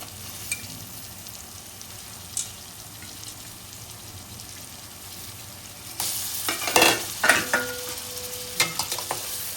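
Prawns cook in a pan for an Agri-style prawn rice, sizzling steadily. Halfway through, louder stirring breaks in with close scraping and clattering over the frying.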